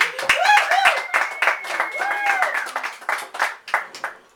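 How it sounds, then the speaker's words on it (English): A small audience claps in a quick scattered burst while voices talk and exclaim over it. "Clap for Tippy."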